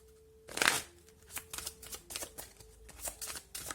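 Playing cards shuffled during an astrology card reading: one loud riffling burst near the start, then a run of lighter, rhythmic card snaps and flicks, close and clear over a faint steady hum.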